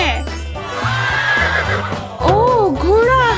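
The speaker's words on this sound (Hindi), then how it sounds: "ओह, घोड़ा।" A horse neighs in a farm setting, with several loud, close whinnies rising and falling, the last ones in quick succession, and faint hoof clip-clop alongside.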